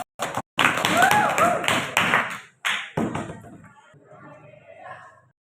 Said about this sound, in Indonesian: kasih aplaus untuk Wan